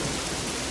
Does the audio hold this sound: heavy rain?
yes